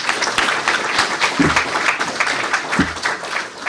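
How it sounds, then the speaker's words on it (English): Round of applause for Sasha and the team at a company meeting, dense steady clapping from a group across the whole stretch with a couple of low thumps. "let's make sure we give a round of applause to Sasha and the team"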